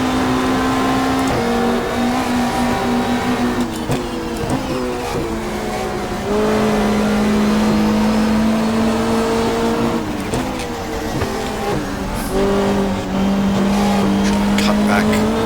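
1995 Australian Super Touring cars, a Hyundai and a BMW, race through the final corner at Lakeside onto the straight, engines loud and sustained with pitch shifts through gear changes and a faint tyre squeal, under continuous commentary.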